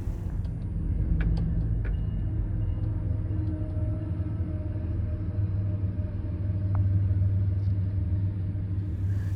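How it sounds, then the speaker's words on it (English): A freight locomotive lash-up hauling a priority intermodal train rumbles past at Galesburg, a heavy continuous low engine drone with faint metallic squeals, steady and fairly close throughout. "we catch an impressive lash-up on a priority intermodal"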